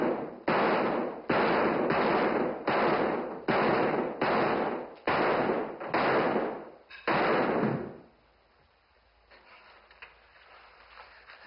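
Gunshots from a gun crack out loud and close, about eight rapid blasts in quick succession, then stop, leaving a quiet room.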